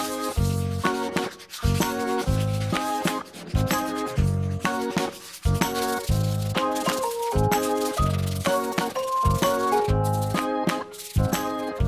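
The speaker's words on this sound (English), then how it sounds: "Afterwards, I sanded it with 100 and 240 grit sandpaper for the smooth result." Sandpaper of 100 and 240 grit rubbing across a wooden TV cabinet table, with steady rhythmic back-and-forth scraping strokes, close and continuous with no talking.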